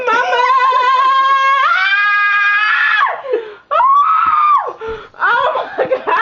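Someone getting a tattoo lets out long, loud, sustained screams close by, breaking into shrieks and strained cries toward the end, with no talking in between.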